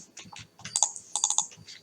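Keys clatter on a computer keyboard in quick, uneven bursts of clicks with short pauses between, close and fairly quiet, with no one speaking.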